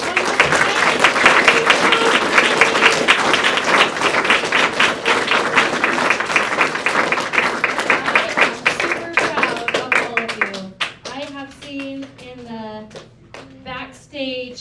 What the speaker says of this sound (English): All right, let's give a round of applause to all the performers